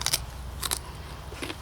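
Three crisp, crunchy bites into a fresh vegetable picked straight off the allotment plant, short snaps spaced apart, close and fairly quiet over a low outdoor hum.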